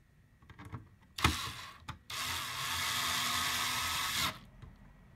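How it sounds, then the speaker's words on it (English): Torx T10 screws driven into a TiVo Roamio, a few light clicks and knocks followed by a steady whirring power-driver burst lasting a few seconds, close up. "then you'll replace the three Torx T10 screws"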